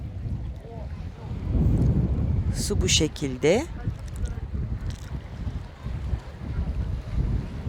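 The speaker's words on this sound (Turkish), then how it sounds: "Genelde burası biraz rüzgarlı." Steady wind gusts buffet the microphone on a seaside pier in Seferihisar, Turkey, with a person talking briefly over the blustery rumble.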